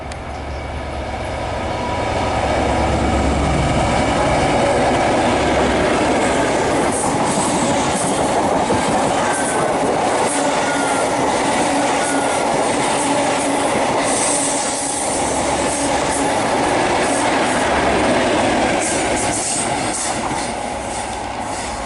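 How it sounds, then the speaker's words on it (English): A High Speed Train running from London Paddington to Penzance passes through Devonport station, a loud sustained rumble of wheels with rhythmic clatter over the rails and faint squeal, building up and holding for about twenty seconds. "passing through now is a HST from London Paddington to Penzance"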